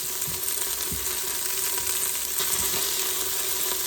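Beef browns in hot, sizzling grease for a slow cooker stew, a loud continuous frying crackle with a few sharper pops and spatters.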